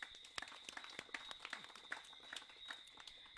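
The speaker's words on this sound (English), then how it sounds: "So big round of applause for them as well." Scattered applause from a small audience at a bar fundraiser event, thanking sponsors; sparse, faint individual claps at an uneven rhythm, heard from a distance.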